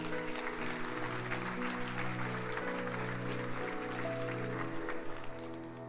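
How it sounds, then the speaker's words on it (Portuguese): A church congregation applauds in a steady wash of clapping while sustained keyboard or organ chords play underneath throughout. "Você pode aplaudir Jesus por isso?"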